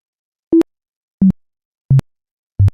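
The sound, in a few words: synthesized sine wave tone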